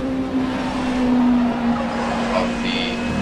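An rFactor 2 race car at Silverstone holds against the rev limiter in third gear on the pit speed limiter, a steady buzzing engine drone that stays loud and unbroken throughout.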